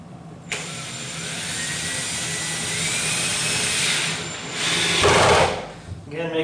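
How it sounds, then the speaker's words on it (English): Power drill driving screws into the wooden front of an arcade cabinet, a sustained whirring motor run that rises and ends in a louder burst, close by. "I'm just going to screw this right into the front"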